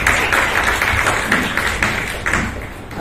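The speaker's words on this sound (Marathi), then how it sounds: "चला पुन्हा एकदा आपण आपल्या आजच्या जे सत्कार मूर्ती आहे त्यांचं मनपूर्वक टाळ्या वाजवून स्वागत करतो" An audience claps for an honoree at a Marathi book-programme centenary celebration, the applause dense and steady throughout with a few louder taps standing out, close by and without speech.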